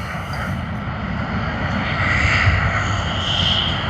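Airplane departing Sydney Airport, a loud, continuous engine rumble that swells slightly midway and holds steady, with a faint high whine above it.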